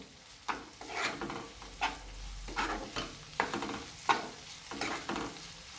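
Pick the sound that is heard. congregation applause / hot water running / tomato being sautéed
tomato being sautéed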